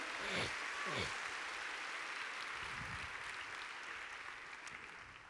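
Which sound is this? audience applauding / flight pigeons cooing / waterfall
audience applauding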